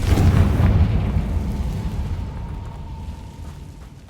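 Confringo fire-blast spell from Hogwarts Legacy, a loud deep boom that swells at the start and rolls off into a long fading rumble, alone with no voices.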